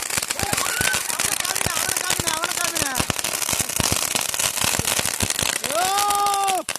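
Dense, rapid bursts of firecrackers going off during Diwali, loud and close in a continuous crackling volley, with excited voices and shouts heard over the barrage.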